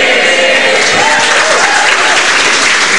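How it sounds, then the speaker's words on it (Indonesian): A stand-up comedy crowd bursts into loud, dense, continuous applause that fills the whole stretch at steady volume, with no pause or talk. "Ngapain tepuk tangan"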